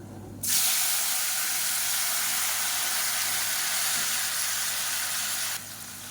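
Two medium tomatoes drop into hot oil in a pan, setting off a loud, steady frying hiss that starts abruptly, holds evenly for about five seconds, then cuts off.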